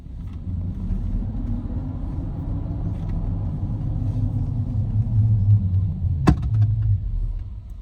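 Shark 6 EVX electric pickup coasting to a stop under regenerative braking, a low steady rumble of tyres and drivetrain inside the cabin, with a brief sharp knock near the end.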